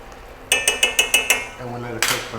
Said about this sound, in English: Give a little stir